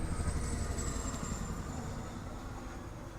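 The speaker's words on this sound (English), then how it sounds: "that was a low plane. That was a really low plane." A low-flying airplane passes overhead near an airport, a loud broad roar that fills the recording and slowly fades as it moves away, with no speech.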